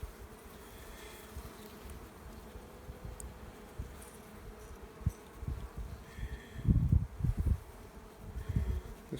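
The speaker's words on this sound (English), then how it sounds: "it does look like there's a lot of bees in the bottom box" Honeybees buzzing in an open hive during a spring inspection, a soft continuous hum with occasional louder close passes and light rustling of frames.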